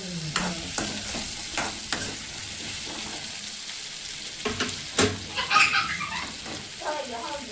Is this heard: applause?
no